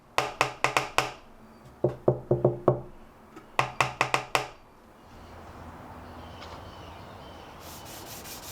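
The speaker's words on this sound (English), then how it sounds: "You can hear the click of the loose corners I mentioned before." Clicking and rattling from the loose corners of a homemade cajon box drum, struck in quick bursts of several sharp clacks with brief pauses, close and fairly loud, followed by low background noise.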